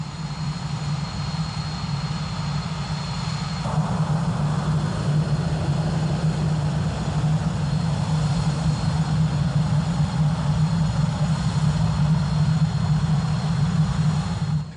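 Hawker Hunter jet aircraft on a motorway strip used as a runway, heard as a loud, steady low engine roar that holds for the whole stretch with no break and no voices.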